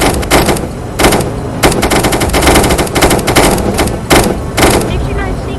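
Rapid bursts of automatic gunfire from The Walking Bean, a shooter game against undead beings, loud and close, repeating in short volleys with brief gaps, while a voice talks over the shooting.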